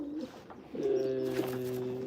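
Racing pigeons coo softly nearby, a low rolling call that repeats and swells, with faint rustling in the background.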